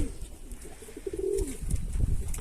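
Black breeding game pigeons coo in a loft, one short low rolling coo near the middle amid faint rustling.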